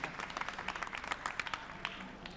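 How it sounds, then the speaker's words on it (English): Scattered applause from a conference audience, fairly faint and patchy, with irregular claps spread across the whole stretch and no voices over it. "feel free to applaud"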